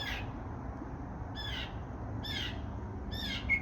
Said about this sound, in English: these birds did not say a single word until I started talking